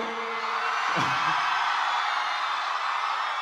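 A large crowd at a Telugu film success celebration for Kushi roars with continuous loud shouting and cheering. A single voice rises briefly near the start before the steady wall of crowd noise takes over.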